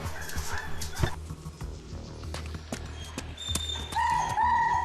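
Hugo, a highly trained firefighter search-and-rescue dog, stirs in his kennel with short yips and whimpers. Scattered clatter and knocks sound close by, and a brief whining tone rises near the end.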